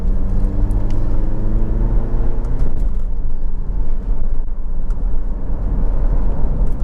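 A Honda CR-V 2.0 i-VTEC EX five-door automatic cruises along a road, with a steady engine drone and tyre rumble heard from inside the cabin and a humming tone that fades after the first few seconds.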